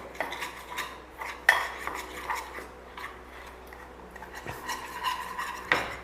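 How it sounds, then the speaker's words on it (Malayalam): Beef chilli masala being mixed with a little cooking water, with soft scraping and a spoon clinking against a bowl, plus a couple of sharper knocks, close and fairly quiet, with no one talking. "അത് ഒഴിച്ച് ഇത് നന്നാക്കി"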